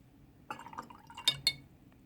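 A wet watercolor brush washing over paper gives soft, quiet watery dabs and strokes, with two brief sharper liquid taps close together near the end.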